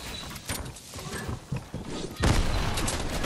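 Grenade explosions in Fortnite thump and pop in a loose series, several muffled blasts capped by one bigger, louder boom near the end, mixed with battle noise.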